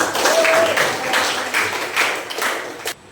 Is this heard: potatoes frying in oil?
no